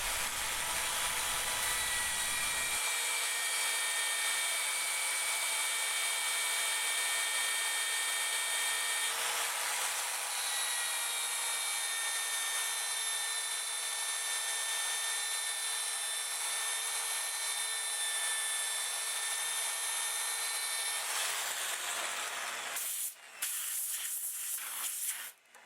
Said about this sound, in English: With the next grit, 240, I sand the center and the bevel.